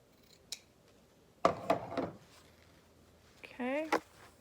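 Scissors trimming the corner of sewn blanket fabric, a few short, crisp snips and cuts close up, with a faint vocal sound near the end.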